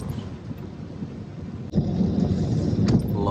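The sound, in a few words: thunder during heavy rain in Madina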